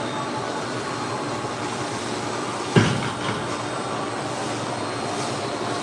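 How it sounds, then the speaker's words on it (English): A rug cleaning machine works cleaning product into a Chinese wool rug with a steady, loud droning whir, broken once near the middle by a sharp thump and clatter. "We're going to work that in with our machine."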